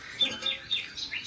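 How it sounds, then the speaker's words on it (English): Bird song plays from a TV in a home kitchen where potato chips are being made, a few faint, bright chirps repeating in quick succession. "The birds are singing."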